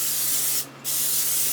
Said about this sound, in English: give them a spray with olive oil, an olive oil spray.